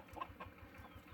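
Several chickens cluck softly and repeatedly while being fed, a close, low, steady run of short calls with no talk.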